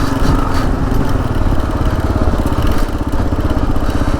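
A Gen 3 KLR motorcycle rides up a small sandy hill with a loud, steady engine drone that holds close and continuous throughout and has no talk over it.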